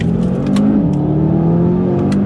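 A 2019 Audi RS3 saloon with four-wheel drive accelerates hard out of a tight mountain hairpin, its engine drone loud and close as revs climb, dip at a shift around the bend, then pull steadily on. Brief clicks and knocks sound over it.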